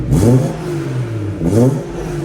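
Stock exhaust on a BMW 340i revving in two bursts, each engine rise swelling and falling back to a steady idle, loud and close with no talking.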